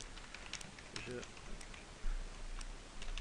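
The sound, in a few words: typing the word bonjour on a computer keyboard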